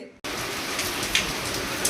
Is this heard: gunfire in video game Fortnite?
no